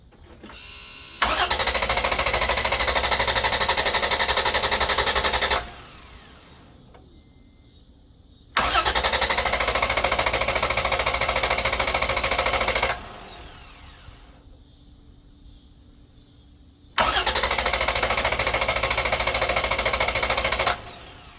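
Jeep engine cranking off a Vantrue JS3 jump starter, three long loud bursts of steady starter whir separated by quiet pauses, with no catch or start.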